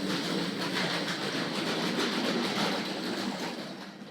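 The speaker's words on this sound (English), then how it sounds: "This makes such a lovely thundering sound on the rails. All those tin plate coaches rattling around behind." A mid-1970s Hornby model High Speed Train pulling tin plate coaches along the rails, giving a close, steady rumbling rattle with rhythmic clicking as the coaches jostle behind.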